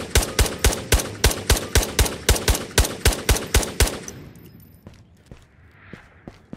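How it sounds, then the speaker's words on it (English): Rapid automatic gunfire in the game Ghosts of Tabor, a loud close burst of about fifteen evenly spaced sharp shots over four seconds, then faint scattered clicks and footsteps. "Just shot madly into that bush"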